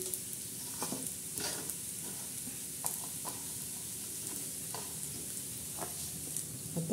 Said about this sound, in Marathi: म्हणजे कांदा बी भाजतो आणि मसाला बी तळल्या जातो।